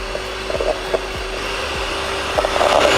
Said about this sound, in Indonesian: baru kita bisa menggunakan mixer